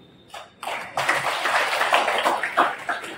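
An audience at a cooperative's annual members' meeting claps, the applause starting in a few scattered claps and then swelling into sustained, moderately loud clapping.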